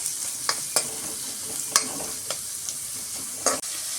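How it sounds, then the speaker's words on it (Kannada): Onions fry in melted butter with a constant close sizzle, broken by several sharp spoon clicks and scrapes against the pan as they are stirred. "ಈರುಳ್ಳಿ ಹಾಕ್ಕೊಂಡು ಸ್ವಲ್ಪ ಫ್ರೈ ಮಾಡ್ಕೊಳ್ತಾ ಇದ್ದೀನಿ."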